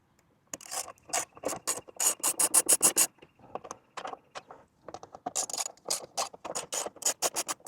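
A ratchet wrench with a 5 mm bit clicks in rapid bursts while loosening bolts on an aluminum skid plate of a Honda CRF300L Rally motorcycle, close up, with brief pauses between runs of ratcheting.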